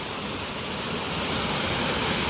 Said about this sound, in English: So we made it to Comer Creek Falls.